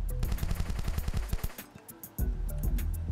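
Rapid automatic gunfire in The Desolate Hope video game, a fast rattling stream of close shots that briefly drops off near the middle, then resumes at full intensity.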